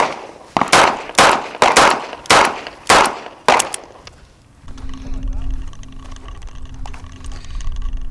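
Six sharp, loud Smith & Wesson 638 revolver shots at an outdoor range in quick succession, each with a short ringing decay, followed by a low steady hum and quiet background noise.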